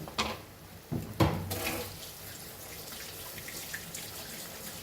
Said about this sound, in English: We'll add water to this because it is rasam.